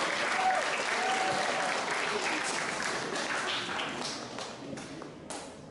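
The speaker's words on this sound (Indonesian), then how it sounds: "Mari kita berikan aplaus yang meriah untuk" An audience claps continuously at a high school presentation on bullying, the applause steady and full before tapering slightly, with a few scattered thumps.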